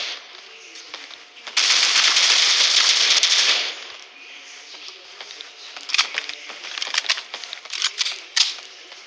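Gunfire in the mobile shooter game Critical Ops, with a sustained burst of rapid shots followed by scattered single and short bursts of shots, close and sharp.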